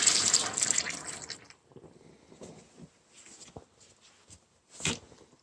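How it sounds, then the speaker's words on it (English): Coolant being poured through a funnel into a car radiator, a brief burst of splashing liquid that fades into faint gurgles and scattered trickles and drips, quiet overall. "We're putting the coolant back into the radiator."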